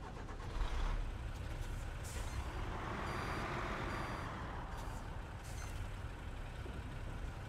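Reversing beeps from a truck in the off-road driving game SnowRunner, a steady repeating tone over a continuous engine rumble, with no talk.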